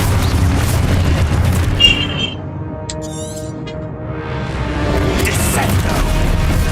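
A booming Expulso explosion spell goes off in the video game Hogwarts Legacy, a broad rumbling burst over dense game noise that stays loud throughout.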